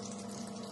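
Water pours steadily into a pan in a continuous, even gush, close and moderately loud, with no talking.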